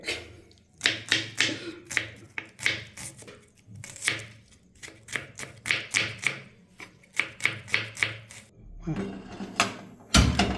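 Knife chopping onions on a board, a steady run of sharp close taps in quick rhythmic bursts with short pauses between them, plus a few louder knocks near the end.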